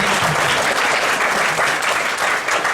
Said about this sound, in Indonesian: Kita beri aplaus yang meriah untuk yang dorong